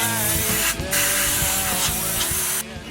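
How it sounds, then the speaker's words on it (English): A pressure washer sprays hard onto an engine intake manifold from close by, a loud harsh hiss broken by two brief pauses and cutting off near the end. "Since they already had the pressure washer out, they decided to clean the intake off before putting it back in."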